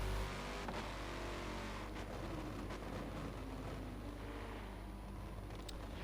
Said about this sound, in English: The engine noise of the Chevy is a beautiful sound to my ears.